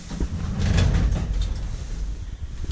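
Flimsy inner doors of a 1963 Kone traction elevator slide along their track in a continuous close rumble and rattle, with a low mechanical drone underneath and no speech.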